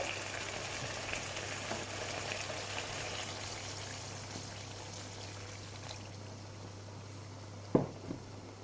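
Water poured into a pot of simmering stew gives a soft, continuous bubbling and pouring wash, followed near the end by a sharp clink and a brief splash.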